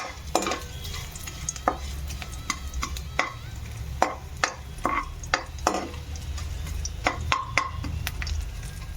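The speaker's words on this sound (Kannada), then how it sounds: "ಇವೆಲ್ಲ ಹಾಕ್ಬಿಟ್ಟು ಚೆನ್ನಾಗಿ ಸ್ವಲ್ಪ ಕಂದು ಬಣ್ಣಕ್ಕೆ ಬರುವಷ್ಟು ಫ್ರೈ ಮಾಡಬೇಕು" Cumin and black pepper frying in a pan for chicken curry, a steady low sizzle broken by frequent sharp clicks and scrapes of stirring, close and continuous with no talk.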